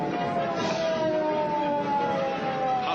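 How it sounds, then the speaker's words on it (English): Ambulance siren wailing in a steady, continuous rising-and-falling tone, fairly loud and sustained, in an old television drama scene with no talking. "There goes the ambulance."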